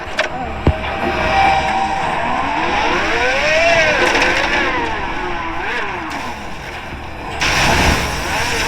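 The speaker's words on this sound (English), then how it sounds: "What is that Timu type of car" A car in a video game revs and whines with rising and falling engine pitch, loud and continuous, with mechanical clicks and a brief crash-like burst near the end.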